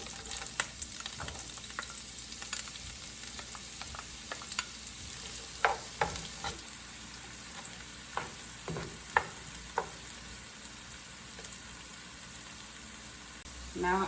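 Chopped onion and garlic fry in melted butter, giving a low steady sizzle with scattered utensil scrapes and taps, faint and close.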